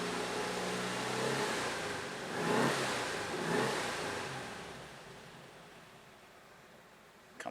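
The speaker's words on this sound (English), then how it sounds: "Let's give it a couple little revs, get it up into the red line a little." A 1963 Porsche 356 engine revved twice in quick succession, each rev swelling into a loud roar and then falling back toward a quieter idle.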